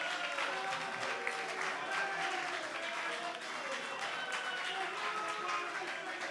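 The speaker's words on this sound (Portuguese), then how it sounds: "Aplauda ao Senhor, glorifique ao Senhor." A church congregation applauding during a worship service, a steady, fairly quiet wash of clapping with faint voices mixed in underneath.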